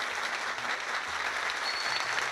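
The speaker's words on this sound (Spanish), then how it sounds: "Otro aplauso para Aaron Judge." Applause for Aaron Judge after a home run, a soft, distant wash of clapping from a crowd, steady and even for a couple of seconds.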